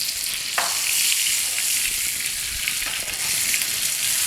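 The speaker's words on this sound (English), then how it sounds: "Time to baste." Steak frying in a pan with butter being basted over it gives a loud, continuous crackling sizzle with scattered spitting pops, close up and steady throughout, with no talking.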